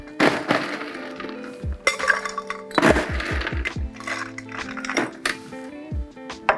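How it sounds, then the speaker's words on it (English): Ice cubes clattering and clinking into a glass while a martini is made, a series of bright sharp knocks and rattles in clustered bursts, close and distinct. "So add my ice"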